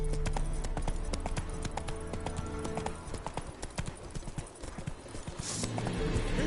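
Roach the horse's hooves clop steadily in The Witcher 3, a continuous trotting rhythm under a dense game soundscape with music and a brief whinny-like tone.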